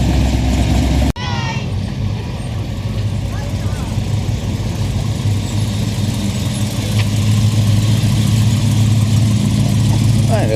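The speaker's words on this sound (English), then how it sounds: "a GTS HQ Holden making some very nice sounds too tonight" A Holden HQ GTS idling at an evening car meet, giving a steady mid-low engine burble that holds on after a brief cut near the start, with crowd noise and faint talk around it.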